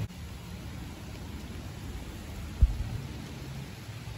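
Heavy rain falling outdoors, a steady soft low hiss of rainfall throughout with one brief thump partway through and no talking.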